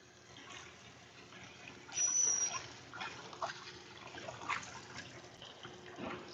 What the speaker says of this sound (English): remove the water, change it to fresh, clean water